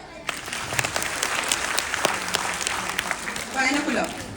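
An audience at a school show breaks into hand-clapping applause that rises and falls, with people talking over it.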